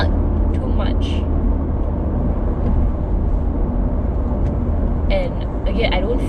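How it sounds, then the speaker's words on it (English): Wind noise rushes steadily around the cabin of a 2019 Mazda 3 sedan on the move, a broad low roar beneath road rumble with a few faint sibilant bursts. "I think there's quite a bit of wind noise though"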